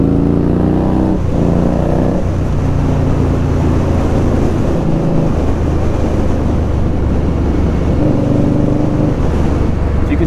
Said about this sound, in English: I've got earplugs in because of the noise of the bike, and I've got the wind noise as well